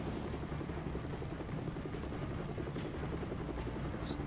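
A helicopter flies in LEGO Marvel Super Heroes, its rotor roar loud and continuous throughout, with a brief higher blip near the end.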